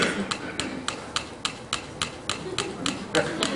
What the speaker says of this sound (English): I'm going to now take another one set to the same setting